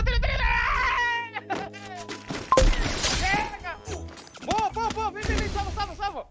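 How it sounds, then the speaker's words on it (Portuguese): Gunfire in the Free Fire battle royale game comes as sharp, loud impacts and bursts. They are scattered among excited overlapping voices talking throughout. "Ah, um tiro!"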